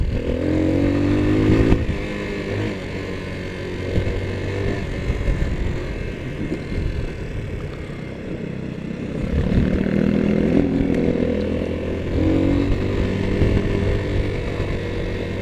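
A Honda CRF250L dirt bike on knobby tyres descends a steep mountain trail off-road, its engine droning and revving continuously close by, loud throughout with rising and falling pitch.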